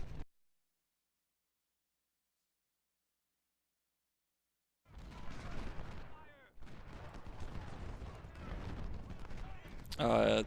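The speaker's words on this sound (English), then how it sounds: "Those units along the back are going to take artillery fire" Artillery and gunfire from a Civil War strategy game, Washington Day 1 battle: after a long silence, a dense rumble of distant booms and crackling volleys rolls on continuously, ending with a louder burst.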